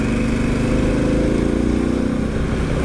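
A Harley-Davidson Pan America motorcycle engine runs in a continuous, throbbing drone with fast regular pulsing, close and loud over wind noise, with no voices.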